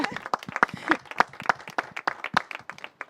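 An audience applauds during a French games event, with brisk, fairly even clapping from a small crowd that holds steady for about three seconds at moderate loudness.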